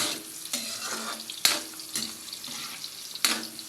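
Carrots frying in oil in a pan for pork caldereta, a steady close sizzle with a few sharp clatters or pops spaced through it.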